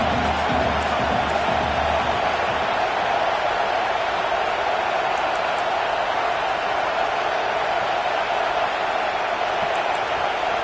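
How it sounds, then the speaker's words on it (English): A home crowd roars at an Ohio State versus Clemson college football game, a dense, loud, unbroken wall of cheering that holds steady throughout. "this home crowd is fired up and ready to make a difference today"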